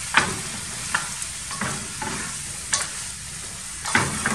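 A spoon stirs a pasta filling seasoned with white pepper in a pan, with soft repeated scrapes about once a second over a steady background sizzle, close and moderately loud.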